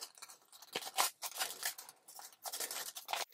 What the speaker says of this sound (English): So let's just cut it open.